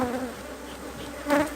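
Honeybees buzz close by at a beehive during a colony split, a dense droning hum with a brief louder swell as bees pass near.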